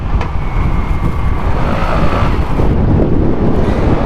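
Strong wind roars steadily across the microphone while riding a KYMCO KRV motorcycle on a road in Taiwan, with a low engine rumble beneath, loud and constant throughout.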